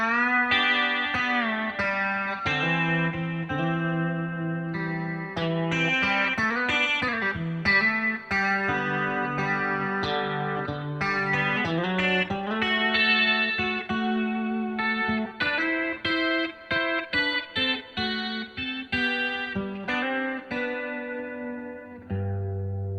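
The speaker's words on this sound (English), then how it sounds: "Now if I add my compressor," Electric guitar in a classic country style, run through a compressor, chorus and delay into two amps, playing a 23-second phrase of picked single notes and chords with a shimmering, echoing sustain. It is close and prominent, with no voices.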